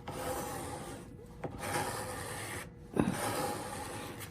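A woodworking tool makes smooth, steady passes over curved end grain during a tear-out repair, producing a soft continuous rasping rub with brief pauses between strokes, quiet and close.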